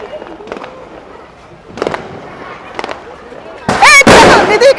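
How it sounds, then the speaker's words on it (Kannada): Lakshmi firecrackers go off during a Deepavali celebration, with a few sharp pops spaced apart and then a loud, crackling burst near the end, while people talk nearby. "ಇವಾಗ ತನು ಲಕ್ಷ್ಮಿ ಪಟಾಕಿ ಹೊಡಿತಾ ಇದ್ದಾಳೆ."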